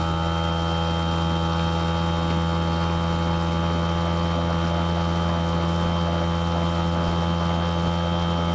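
A motorboat engine at full throttle drones at a steady high pitch, constant and loud, with a tonal whine running unchanged throughout.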